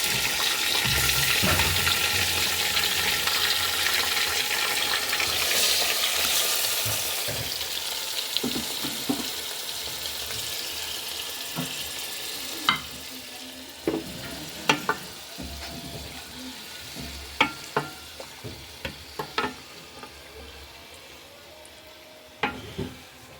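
Beef pieces fry and get stirred in a pan for a potato and chuijhal curry: loud sizzling at first that settles into a softer hiss, with scattered knocks and scrapes of the spoon against the pan.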